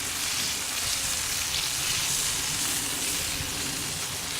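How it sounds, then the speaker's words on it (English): Chicken thighs fry in a paella pan for a Valencian paella, giving a loud, dense, continuous sizzle close up with no break. "those chicken thighs have been cooking for"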